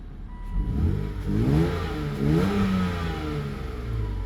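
A Volvo XC90 engine running steadily nearby with a slight exhaust leak, a continuous low hum with gentle rises in pitch and no talking.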